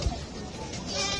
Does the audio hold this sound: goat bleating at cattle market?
yes